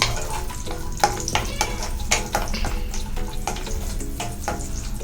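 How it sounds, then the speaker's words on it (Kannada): Cashews, almonds and raisins fry in ghee for rava halwa, a soft steady sizzle under repeated scraping and stirring strokes of a spoon against the pan, close and fairly loud. "ಫಸ್ಟ್ ನಾನು ಇದು ಗೇರು ಬೀಜ, ಬಾದಾಮ್, ದ್ರಾಕ್ಷಿ ಫಸ್ಟ್ ಹಾಕ್ಕೊಳ್ತೀನಿ, ಯಾಕಂದರೆ ಒಂದೇ ಸಲ ಫ್ರೈ ಆಗಿಬಿಡುತ್ತೆ."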